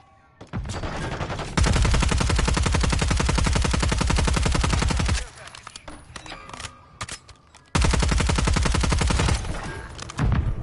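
Automatic gunfire in a video game shooting down a UAV, two long, loud, continuous bursts of rapid shots separated by a short lull of scattered game sounds.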